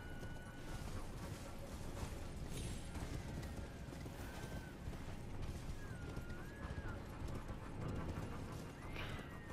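Steady clopping hoofbeats of deer moving through an underground area in the game Elden Ring, a continuous close patter with occasional creaks and faint animal calls.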